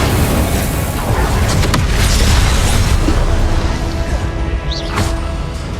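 Fire spell cast in the fantasy video game Hogwarts Legacy, a loud, dense burst of roaring, crackling flame sitting amid continuous combat effects, with a sharper whooshing flare near the end.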